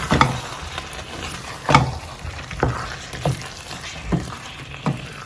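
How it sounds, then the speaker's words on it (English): Green beans and meat are stirred together in a sizzling frying pan, with a spatula scraping in steady strokes roughly every second over a constant close-up sizzle. "Then we'll add our green beans together with the meat and stir it in"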